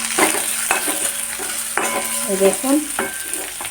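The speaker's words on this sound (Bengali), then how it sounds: "এই কড়াইয়ে পেঁয়াজ সব দিয়ে দিলাম।" Onions dropped into a hot wok beside already-fried potatoes sizzle and crackle steadily, with a spatula scraping and clinking against the pan and a brief spoken remark.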